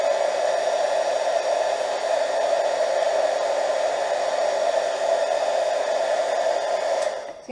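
A heat tool blows steadily on crackle paint coated on a doll, a constant loud airy whoosh with no pauses that cuts off abruptly at the end.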